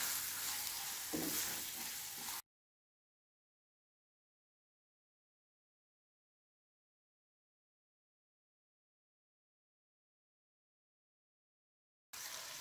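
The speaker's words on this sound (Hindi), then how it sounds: "और चिकन को भी मैं 2 से 3 मिनट के लिए इसी तरीके से पकाऊंगी।" Chicken cooking in a pan gives a loud, steady sizzle with stirring for about two seconds, then cuts to silence, and the sizzle returns briefly at the very end.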